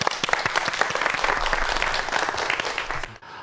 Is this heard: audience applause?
yes